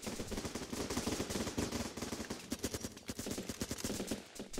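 Gunfire in the video game Running with Rifles: dense, rapid bursts of automatic fire and overlapping shots, loud and close, running without pause and with no voices.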